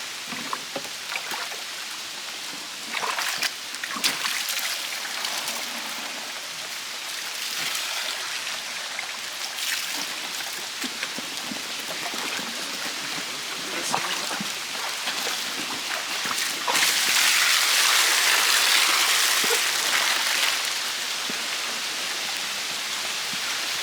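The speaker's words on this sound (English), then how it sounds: "they're going to rinse everything that's on that net into the bucket" Water rinsing contents from a wetland sampling net into a bucket outdoors, a steady splashing, pouring wash that swells louder near the end.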